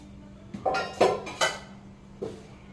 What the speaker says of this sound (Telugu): ఇప్పుడు దీన్ని బాగా కలుపుకుందామండి.